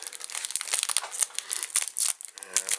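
A plastic wrapper crinkles and crackles in quick, irregular bursts close up as a notebook is pulled out, loud and busy, with a faint voice underneath near the end.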